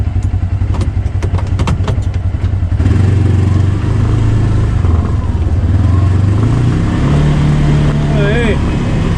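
Kubota Sidekick 850 utility vehicle engine revving as it climbs out of a snowy ditch, rattly clatter at first, then a loud, steady, rising engine drone with wind noise.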